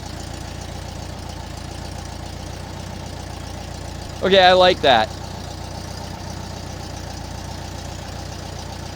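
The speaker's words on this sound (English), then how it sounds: "You can hear the engine pick up, rise and fall a little bit when I'm not talking" Steady low idle of a 1968 VW Bus engine, rising and falling slightly around 850 to 880 rpm, with a brief spoken remark midway over the running motor.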